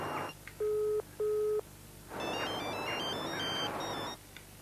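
A mobile phone ringtone sounds alone: two short electronic tone bursts, then a longer warbling melodic ring with bright chirping notes that stops near the end, heard fairly quietly.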